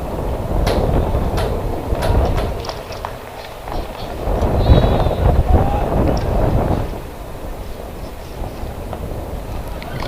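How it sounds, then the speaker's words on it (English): At an outdoor high school baseball game, gusts of wind buffet the microphone in loud rumbling bursts that rise and fall over several seconds, with faint background activity and occasional distant sounds. "Ooh, you can hear that wind."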